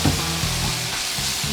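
Chicken hearts and livers with spices sizzling and frying in a pan, a steady close crackle with soft stirring scrapes, no talking.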